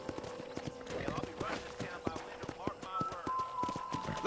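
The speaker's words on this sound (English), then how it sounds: "let's see if you can still ride a horse" Steady rhythmic hoofbeats of a ridden horse on a ranch in the video game Red Dead Redemption on PS4, clip-clopping close and moderately loud, with someone talking over them and brief tonal game sounds.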